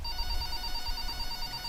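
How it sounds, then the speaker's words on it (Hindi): Landline telephone rings steadily at night during a windy, rainy storm, its repeating electronic ring tone heard clearly alongside low rumbling background noise. "रात की किसी पहर घर का लैंडलाइन नंबर बजा"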